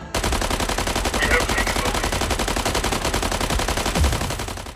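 Mech Arena robot combat: two mech weapons fire together in a steady, rapid mechanical stream of shots for several seconds. The fire is loud and continuous, with a faint voice beneath it.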